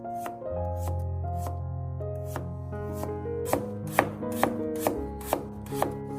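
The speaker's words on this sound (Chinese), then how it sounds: "然后将土豆横过来，再切成薄片" A knife chops a potato into thin slices on a cutting board, a series of sharp, evenly spaced taps growing more regular toward the end, heard over soft background music with no talking.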